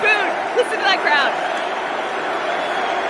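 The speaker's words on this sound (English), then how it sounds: "Listen to that crowd." A large baseball stadium crowd roars in a broad, steady wash before a first pitch, with whistles and cheers rising over the sustained din.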